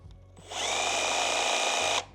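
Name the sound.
cordless brushless jigsaw running at middle speed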